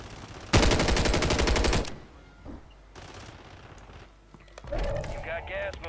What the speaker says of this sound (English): That dude on the top must have a sniper rifle